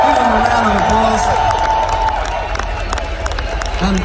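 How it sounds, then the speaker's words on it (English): A concert crowd at a show bursts into loud, sustained clapping and cheering, with scattered whoops and shouting voices rising over the din throughout. "Give him a round of applause"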